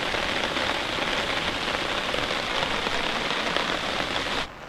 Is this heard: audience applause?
no